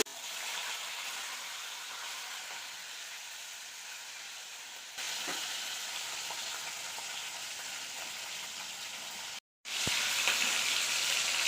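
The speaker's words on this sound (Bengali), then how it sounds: "যা ফুটছে কাঁচা মাছ ভাজা হয়ে গেছে" Hilsa fish fries in hot oil in a wok, giving a steady close sizzling hiss that grows a little louder partway through, breaks off briefly near the end, and then returns. No one speaks.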